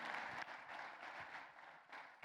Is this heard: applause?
yes